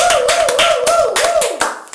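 A studio audience on a French-language morning show applauds the artist, brisk rhythmic clapping up close over a sustained musical tone, loud and lively.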